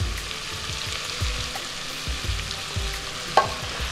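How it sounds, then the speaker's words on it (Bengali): Marinated mutton sizzles and crackles in hot oil with frying onions, a steady close hiss broken by stirring scrapes and a sharper clack near the end, with no voices. "পেঁয়াজটা ভাজা হচ্ছে, এই অবস্থায় ম্যারিনেট করা মাটনটা দিয়ে দিয়েছি।"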